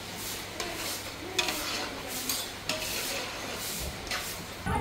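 Spices for rasam sizzle and crackle in hot oil while being stirred and scraped in a pan, with bursts of frying noise.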